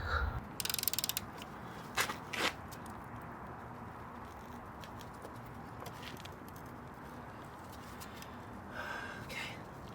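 Ratchet clicks at close range while a bolt is tightened during a full strip-down of a 1967 VW Beetle, a couple of quick bursts early on, then a low steady background hum with faint scattered taps.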